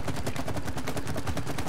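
Rapid, evenly spaced bursts of video game gunfire from It Takes Two, a steady close fusillade of sharp shots with no talking.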